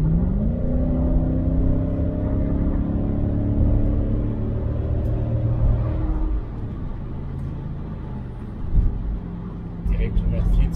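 A cheap Mercedes AMG car with a fitted gas system accelerates hard on kickdown, its engine roaring with rising harmonics under a driver talking over it, heard from inside the cabin.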